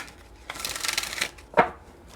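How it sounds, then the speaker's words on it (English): A deck of tarot cards is riffle-shuffled close by, a quick fluttering burst of card flicks followed by a sharper snap as the deck is squared, quiet and alone. "I am going to shuffle some more."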